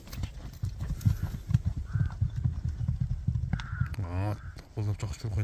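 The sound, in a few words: horse galloping, hooves clip-clopping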